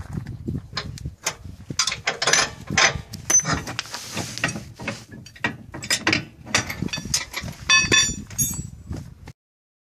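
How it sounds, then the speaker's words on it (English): Removing the stabilizer bar from a camper's hitch brings close, loud metallic clanks, ratcheting clicks and rattling bursts in an irregular rhythm, followed by sudden silence at the end. "Now it's easy enough to take off the stabilizer bar"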